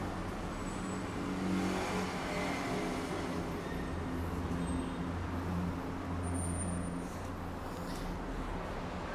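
A used Honda Fit, about eleven years old, with its engine running at a steady idle: a continuous low hum and rumble that holds at an even level throughout, with faint high tones overhead and no speech.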